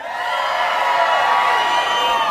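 A concert audience cheers, whoops and shouts together in a loud, continuous roar that holds steady for a couple of seconds.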